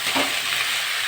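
Okra and potatoes with onion fry in a pan, giving a loud, even hiss of oil with a brief stir near the start.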